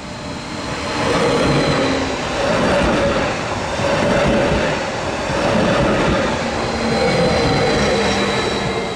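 An old train runs along the disappearing line 150 at Dunaharaszti alsó, on the Ferencváros–Délegyháza route, making a loud, steady broadband rumble that swells and eases in gentle waves, with no voices.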